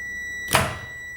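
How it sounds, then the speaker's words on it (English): A generator set's controller gives off a steady high electronic tone that holds throughout, interrupted midway by a dull thunk and a short burst of rushing noise. "As it is still beeping, let us restore mains and see what happens."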